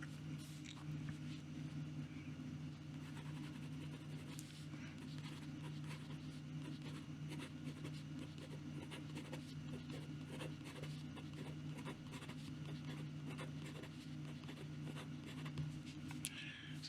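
A WingSung 3013 fountain pen scratches faintly across paper in a quiet room, with short dry strokes and small taps repeating over a low background hum.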